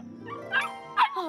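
A cartoon puppy cries in a short, high whimpering whine with two brief yelping rises, close and clear over a quiet background.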